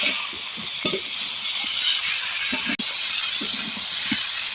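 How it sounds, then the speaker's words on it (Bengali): Vegetables for Bengali dudh shukto, heavy on drumsticks, sautéed in a pan: a steady, loud sizzling hiss runs throughout, broken by occasional soft scraping stirs and a few light knocks, with no voices. "এবার ভালো করে কষিয়ে নিতে হবে"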